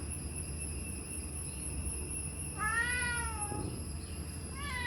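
A kitten gives a drawn-out, wavering meow, then starts another short cry, heard over a steady low hum and background noise.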